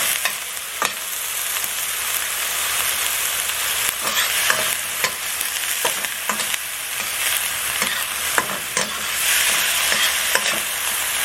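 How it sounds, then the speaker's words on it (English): Garlic and onion sauté in a pan with a steady, bright sizzle throughout, broken by repeated clicks and scrapes of stirring at close range, with no one speaking. "we're going to saute that down just a little bit. All right, the garlic and onion"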